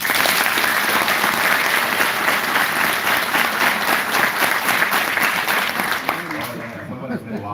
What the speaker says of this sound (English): Clap 20 times quickly.